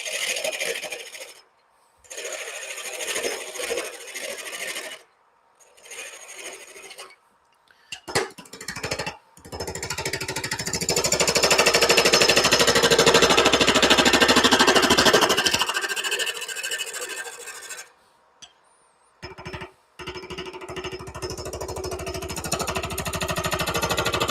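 An off-center wood piece spins on a lathe as a small gouge cuts it, producing loud, harsh chattering and rattling bursts separated by quiet gaps, with one long sustained grinding stretch in the middle.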